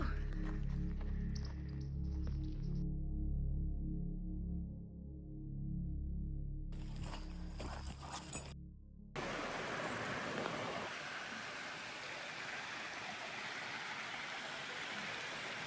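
A creek flowing early in the morning: steady broadband rushing water that takes over after a few seconds of other noise and then holds constant and fairly loud, with no talking.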